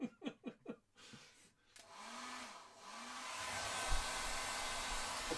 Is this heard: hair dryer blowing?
yes